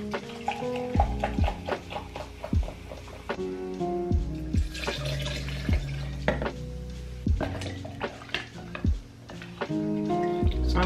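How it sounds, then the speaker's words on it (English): A spoon stirs sangria mixed with ginger ale in a pitcher, making repeated sharp clinks and taps against the glass with a light liquid swish between them, close and moderately loud. "So I'm just gonna stir it up a little bit more"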